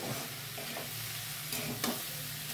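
Shredded cabbage sautéing in a pan gives a soft, continuous frying hiss with two brief spoon scrapes near the end, close but quiet.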